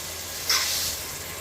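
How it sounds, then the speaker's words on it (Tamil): Masala sizzling as it sautés in hot oil for chicken biryani, a brief louder burst of hissing frying that settles into a steady, soft sizzle, with no one talking. "நான் இது வதங்கிறதுக்கு போட்டிருக்கேன்."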